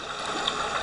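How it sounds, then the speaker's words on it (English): Running water flowing after a big rainfall, a steady broadband rush with soft gurgles, close and continuous for under a second. "just running water I've recorded after a big rainfall event"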